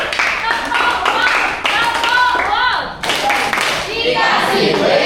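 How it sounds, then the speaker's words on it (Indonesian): Schoolchildren in a classroom clapping for a student group, close, loud and somewhat rhythmic, with children's voices calling out among the claps. "Tepuk tangan untuk kelompok 7."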